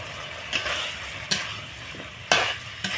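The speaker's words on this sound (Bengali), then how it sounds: "এবার দিয়ে দেব পেঁয়াজ কুচি" Chopped onion tossed into a pan of frying whole garlic and meat, sizzling steadily with four sharp stirring scrapes spaced through it, close and fairly loud with no voices.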